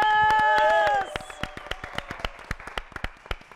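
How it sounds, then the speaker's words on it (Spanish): An audience at a regional grupero music event applauds the band members, sharp individual claps ringing out after a loud sustained tone fades, with scattered cheering underneath. "Un aplauso para ellos."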